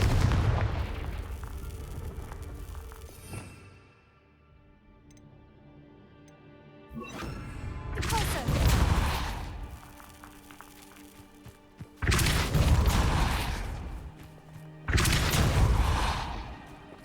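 Blasting spells set off in the Hogwarts Legacy video game, three heavy booming explosions with long rumbling tails, broken up by a quieter stretch of faint ticking game ambience between them.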